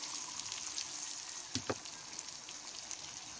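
An egg fries in melted butter in a pan, with a steady soft sizzle and hiss and a couple of brief crackling pops near the middle.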